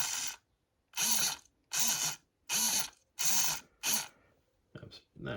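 Steering servo on a Tamiya XV-01 chassis for a Lancia Delta Integrale RC build, driving back and forth: six short, sharp mechanical whirring bursts at an even rhythm with silent gaps, close and fairly loud.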